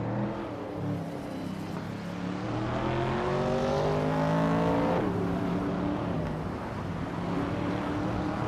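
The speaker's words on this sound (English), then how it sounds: "Unistix is driving a 1966 McLaren Elva Ford." 1966 McLaren Elva Ford race car in a racing game on the Bremgarten track, engine revving up and down through the gears with rising and falling pitch, loud and close, no talk.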